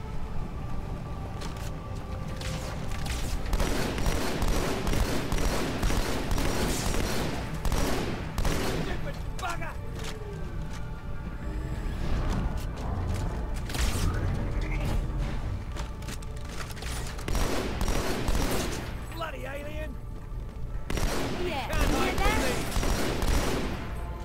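Halo game combat with shotgun blasts and rapid gunfire against Covenant forces, dense overlapping bursts and mechanical clatter continuing throughout, loud and busy with steady background rumble.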